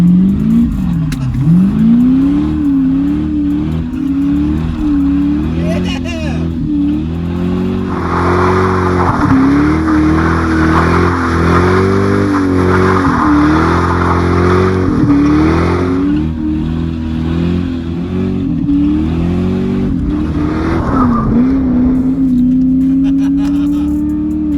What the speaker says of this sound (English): It sounds like a throaty V8. Well, I mean, it is a V8.